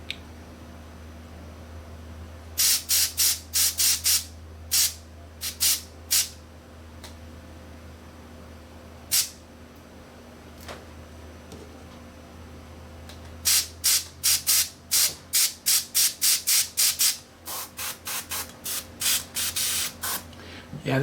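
An airbrush fitted with a nozzle taken from another airbrush fires repeated short sprays. They come in bursts of quick hissing pulses, loud and close, with quieter gaps between them over a steady low background hum.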